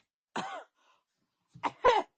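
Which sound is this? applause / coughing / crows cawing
coughing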